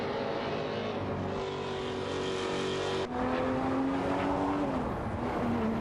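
Video-game racing engines from a Lamborghini Murcielago SV and Porsche 911-997 Turbos, a loud sustained whine with pitch sweeping upward, then a sudden shift to a new gear tone mid-way that keeps climbing.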